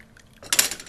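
Copper sulfate solution poured into a filter funnel with filter paper during a crystal-growing lab, giving a brief burst of splashing and clinking at close range about halfway through, preceded by quiet.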